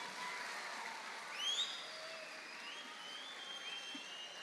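Audience applause at a concert of traditional dance by a women's group, a steady broad wash of clapping sustained throughout with a brief swell near the middle, heard at some distance.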